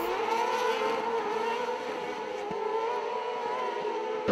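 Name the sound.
race cars racing in FIA motorsport event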